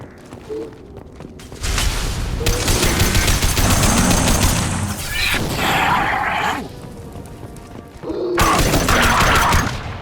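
Rifle fire in the sci-fi shooter Mass Effect 2 crackles in loud, sustained bursts, broken by short pauses and clanking impacts, during a firefight with Krogan enemies.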